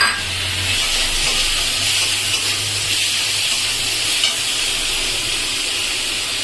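Tomato tipped into a frying paneer curry with milk and chopped green chillies, giving a steady close sizzle and hiss across the pan, with no talking.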